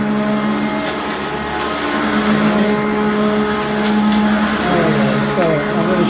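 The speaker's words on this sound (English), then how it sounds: "so as you can see, I'm giving it a big vacuum" A vacuum cleaner drones continuously while cleaning sandy carpet in a home, a loud, close, steady motor whine with slight shifts in pitch as it moves across the floor.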